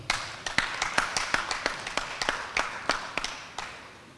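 Scattered claps from a small audience at a political party's constituency annual general meeting in a school hall, a dozen or so distinct hand claps spaced irregularly, fairly close and moderately loud, with no continuous crowd roar.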